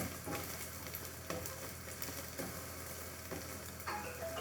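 An egg sizzles steadily in a hot pan on a stove, a soft continuous crackle with faint pops and no voices.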